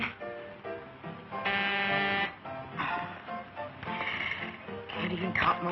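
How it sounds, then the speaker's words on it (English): An electric buzzer drones in a few sustained blasts, separated by short gaps, while voices and other noise carry on around it. "Stop pressing that buzzer."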